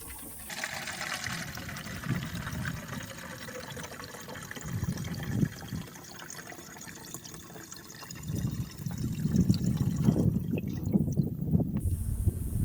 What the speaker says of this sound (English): take your EnerBurn over to the bulk tank and pour it directly into the diesel fuel